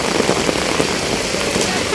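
Heavy downpour, a dense continuous hiss of rain pounding surfaces close by, steady and loud throughout with no speech.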